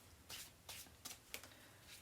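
Cards riffled and shuffled by hand in a few quick bursts, close and soft, with short pauses between passes.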